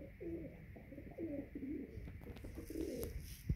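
Several domestic pigeons in a home loft give a close, continuous run of low throaty coos, overlapping and rising in bursts, with a faint rustle at the end.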